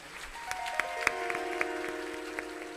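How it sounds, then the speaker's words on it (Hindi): Audience applause at a Bhagavat Katha gathering, a steady patter of hand claps with a few sharper distinct claps standing out, moderately loud, while a sustained musical tone rings underneath. "भैया श्री यशपाल जी के लिए एक बार जोरदार हृदय से तालियां होनी चाहिए"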